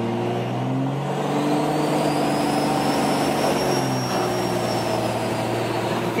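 Diesel pickup truck fitted with compound turbos accelerating hard under 44 psi of boost, a steady loud engine drone with rising turbo whine held throughout, no voices.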